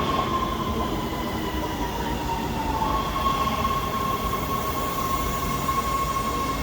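An LA Metro subway train, the same model used in Miami, rolls into a station with a loud, steady rumble and high metallic wheel squeal, heard up close with no talking.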